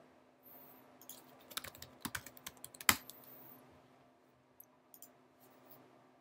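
Keyboard keys tapped in short irregular bursts while login details are entered, clustered clicks with a sharper keystroke near the middle, then a few scattered taps over quiet room hum.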